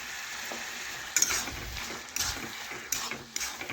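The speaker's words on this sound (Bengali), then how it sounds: "চিনিটা ভালোভাবে নাড়াচাড়া করে মিশিয়ে নিলাম" Sugar being stirred into hot oil in a pan while cooking fish heads, with a soft steady sizzle and several sharp scraping strokes of the spoon against the pan.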